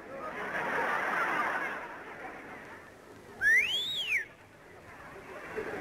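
A short whistled tone sliding up and down, loud and close, rising over a murmur of background chatter, then fading back to the room noise.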